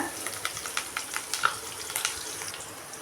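Onions and curry leaves fry in a pan with a soft, steady sizzle. Small crackles and pops are scattered throughout, and the whole sound stays fairly quiet.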